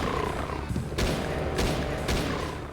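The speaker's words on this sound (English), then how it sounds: "I'll waste rifle shots on you." Rifle gunfire and explosions from the ZDoom video game crack out in three sharp bursts at roughly even intervals, over a dense, loud bed of game noise.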